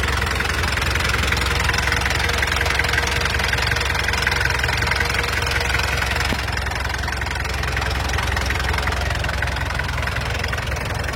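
An old car engine idles steadily and close up, a constant mid-low rumble with a faint knocking texture, no voices.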